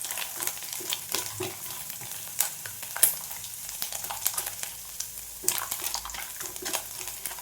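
Onions frying with coconut in a pan for a jackfruit seed curry: a continuous close sizzle with frequent stirring scrapes and light clicks of the spoon, no voices.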